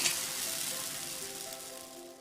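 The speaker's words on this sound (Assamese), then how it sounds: "তাৱাখনত মই এনেকৈ সৰু সৰুকৈ পিঠা বনাই ল'ম।" Rice-flour pitha batter, mixed with water and cooked with ghee, frying on a griddle, giving a close, steady hiss and sizzle with faint crackling, alone without talk.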